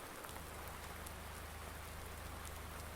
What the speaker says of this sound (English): It's gonna be raining like this more.